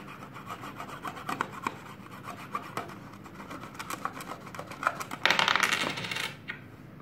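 A coin is rubbed and scraped against a plastic cup during a magic trick, a close series of small rasping strokes and clicks that build into a brighter, denser scratching near the end.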